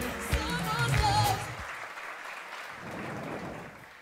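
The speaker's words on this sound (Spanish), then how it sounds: "queremos darle un aplauso a cada uno de los participantes en este día" Audience applause for the participants at a national singing and spelling festival, a broad patter of clapping that follows a brief tonal passage at the start and carries on alone, fading slightly toward the end.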